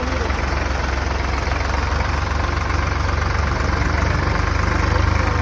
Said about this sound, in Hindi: ये अंकल ने ट्रैक्टर कल जोड़ रखा है मेरे हिसाब से